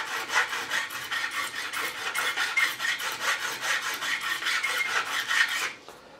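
A 2.5 mm wide file rasps over a guitar fret on a Gibson Firebird kit guitar while recrowning it and removing burrs, heard as rapid, rhythmic back-and-forth scraping strokes close up, then stopping abruptly.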